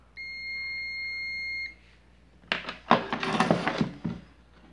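A digital multimeter gives a single steady continuity beep for about a second and a half while testing an Electrolux CM303 coffee maker, then stops, followed by scraping and rustling handling noises.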